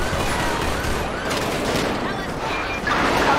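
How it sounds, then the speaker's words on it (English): Dense, loud gunfire fills a shootout in the LSPDFR police mod for a driving and shooting video game, with rapid overlapping shots and bursts sounding continuously throughout. "Shots fired."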